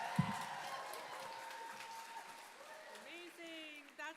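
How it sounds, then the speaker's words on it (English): A pageant crowd at Miss Indigenous Canada 2025 keeps up a steady wash of applause for all the contestants, with a sharp nearby clap at the start. Voices and a whoop or two come through the ongoing clapping. "Let's give another round of applause for all of our incredible contestants"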